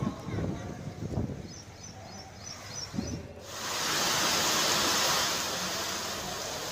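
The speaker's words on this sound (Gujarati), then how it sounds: "ધોધમાર વરસાદી માહોલ છવાઈ ગયો છે" Heavy monsoon rain pouring over Vavda village near Babra in Amreli, Gujarat, with flooded farmland, begins after some early speech and settles into a loud, steady broadband wash.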